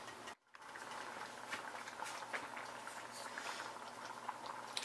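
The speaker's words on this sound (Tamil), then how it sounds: "இது வந்து ஒரு 5 மினிட்ஸ் நல்லா கொதிக்கட்டும்" Thick vegetable kurma gravy bubbles and pops at a steady simmer in a pan, close and fairly quiet, with a brief drop in sound near the start.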